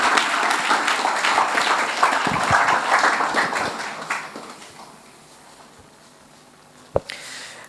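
An audience at a school event claps in a dense burst of applause that fades out after several seconds, followed by quieter room noise and a sharp knock near the end.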